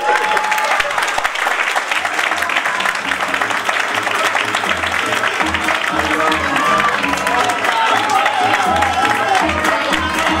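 A studio audience claps loudly and continuously for about ten seconds, a thick, steady roar of applause with a few faint cheers and voices mixed in.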